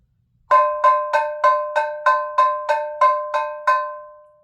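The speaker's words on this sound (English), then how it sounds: "It sounds like you're banging on a piece of metal," Ten evenly spaced metallic strikes on a brake drum played as percussion ring out loud and clear, each a bright clanging hit with a short resonant decay.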